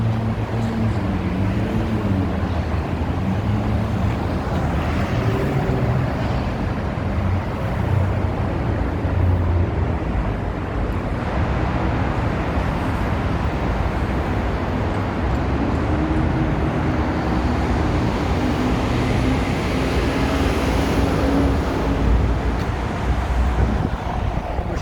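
Downtown Chicago street ambience: a steady wash of passing traffic and road noise from cars and other vehicles, continuous and moderately loud, with no clear talking.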